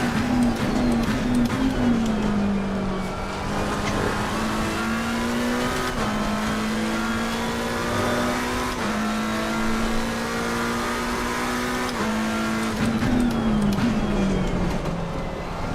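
Race car engines from a racing simulator game drone steadily for the whole stretch, one dominant engine tone rising and falling with gear shifts and throttle, loud and continuous with faint tire noise and no talk.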